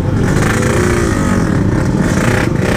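A Yamaha RX King two-stroke motorcycle engine, fitted with a damaged membrane reed, revs loudly and steadily close by, droning continuously with slight surges and no voices.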